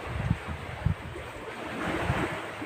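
Steady roar of surf with broad wind noise buffeting the microphone, a few low thumps of waves breaking throughout.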